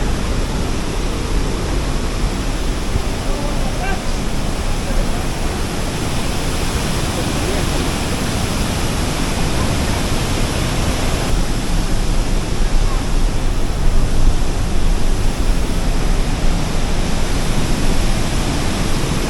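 A loud waterfall roars in Baños, Ecuador: a dense, steady broadband rush that fills the whole clip with no breaks and no voices, like standing close to heavy falling water.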